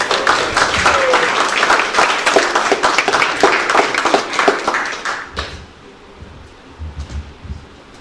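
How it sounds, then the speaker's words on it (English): Loud, sustained applause from a crowd, dense clapping that fades out after about five seconds, leaving quiet room noise. "Let's give him a great round of applause."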